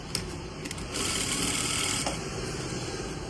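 A sewing machine runs continuously, stitching right along the edge of a folded fabric hem, its steady close whirr starting after a brief pause, with no one talking.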